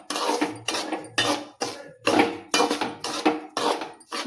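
Grated dry coconut and rava being roasted in a pan for rava laddu, heard as a steady run of sharp scraping and stirring strokes against the pan, about two per second, close and clear.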